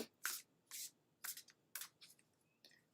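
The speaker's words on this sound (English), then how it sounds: "And then we'll just shuffle a couple more times." Oracle cards shuffled by hand, five quick, crisp riffling bursts spaced about half a second apart, close and fairly quiet with no talking over them.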